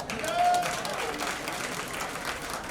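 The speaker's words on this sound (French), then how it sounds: "Merci de saluer Abou Nidal par des applaudissements." An audience applauds a performer at a French-language gathering, with dense clapping that swells early and then holds steady, a brief whistle-like tone near the start and faint crowd voices underneath.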